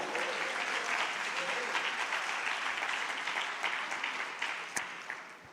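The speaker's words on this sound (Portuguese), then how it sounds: "Aplauda Jesus e diga: eu recebo." A church congregation claps together in steady, sustained applause that thins out near the end.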